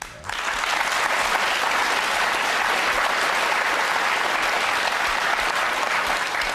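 A large audience applauds loudly and steadily, with dense clapping that fills the whole stretch without letting up.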